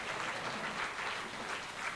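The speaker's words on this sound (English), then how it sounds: "Please, that applause was not presidential enough." Steady applause from a large audience at a national day of tribute for the late Chief Mbazulike Amechi, a dense, even wash of clapping that holds at an even level throughout.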